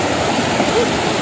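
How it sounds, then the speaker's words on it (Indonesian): Tanaka waterfall in Malang, a clear-water tourist spot that seems artificially pumped, rushes as a loud, constant close-up roar of falling water. "air terjun"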